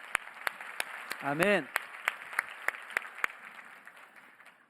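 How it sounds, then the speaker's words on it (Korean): A church congregation at a youth worship gathering claps in a faint, sparse, evenly spaced rhythm, with a voice speaking briefly over it. "우리 최고의 박수를 하나님께 올려드리며 예배를 시작하도록 하겠습니다"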